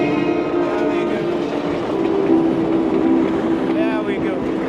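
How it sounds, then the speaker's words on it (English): A train passes on a Nairobi street, a steady, loud, close rumble with a sustained tonal hum that runs for the whole stretch. "train is right here."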